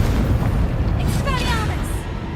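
A Confringo blasting spell explodes in Hogwarts Legacy as a loud, dense boom with a rumbling low body and a brief crackling burst, while a voice speaks over it.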